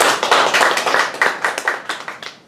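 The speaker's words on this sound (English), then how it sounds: "Let's give a clap of hand to our family." A church congregation claps for a family, a quick burst of many hands in dense, slightly uneven rhythm that rises and then tapers off, with no voices over it.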